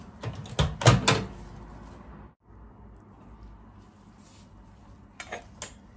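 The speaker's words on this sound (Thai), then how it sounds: "เข้าไมโครเวฟอยู่ที่3 นาทีนะครับ" A microwave door shuts with a quick cluster of knocks and a solid thud near the start. A low, steady hum follows, then a few light clicks at the end as the microwave is set to run.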